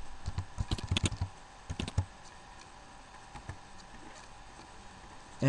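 Clusters of quick keystrokes tapped on a computer keyboard, close and crisp, followed by a few sparse single clicks and a pause.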